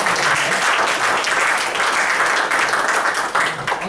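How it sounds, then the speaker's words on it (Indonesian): Loud, close audience applause for Pak Agus at a leadership seminar, many hands clapping in a dense, steady roar that holds for several seconds with slight swells. "Kasih tepuk tangan sekali lagi untuk Pak Agus."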